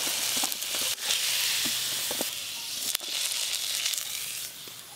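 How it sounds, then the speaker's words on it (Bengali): Eggplant slices frying in hot oil in a home kitchen, a steady, close sizzle with crackling and spattering pops running throughout. "এবার বেগুনগুলো ভেজে নেব"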